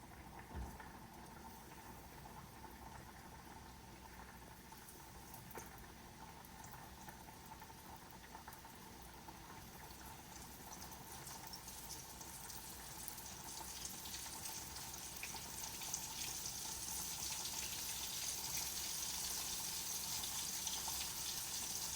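Meat frying in oil heated to 320–350 degrees on a stove, a steady bubbling hiss that swells gradually and grows brighter over time, with no talking.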